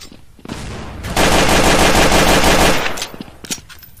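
Gunfire in the video game Counter-Strike: Source on the Dust 2 map, a loud, close burst of rapid automatic fire lasting under two seconds, followed by a few scattered sharp shots.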